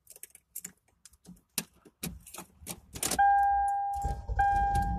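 Keys jangle and click into an ignition, then a cheap $500 car's engine cranks and catches, settling into a steady idle with a whining tone, all recorded up close.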